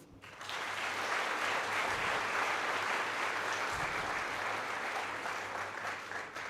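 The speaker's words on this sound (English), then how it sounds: "So can you clap for yourself?" A large audience of students applauds at a university orientation programme, a sustained, even roar of clapping that swells in after a brief pause and holds steady, with a couple of low thumps.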